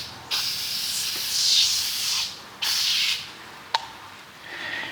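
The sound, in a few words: Scrubbing Bubbles aerosol can spraying onto brick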